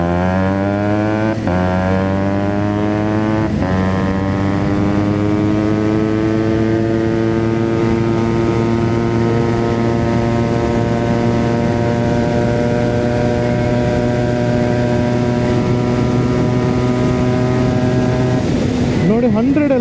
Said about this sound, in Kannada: ನಂದು ಬೈಕ್ ತುಂಬ ಸ್ಪೀಡ್ ಹೋಗ್ತದೆ, ಪಿಕಪ್ ಎಲ್ಲ ಭಾರಿ ಕ್ರೇಜ್ ಉಂಟು. ನಾನು ತೋರಿಸ್ತೇನೆ.